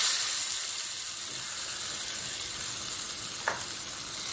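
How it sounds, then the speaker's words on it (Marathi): Hot tempering (phodni) with garlic poured into yogurt chutney gives a loud, steady sizzle and crackle that stays even throughout, close and with no voices. "आता आपण फोडणी टाकूया मध्ये"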